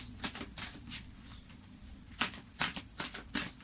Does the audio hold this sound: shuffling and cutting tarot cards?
yes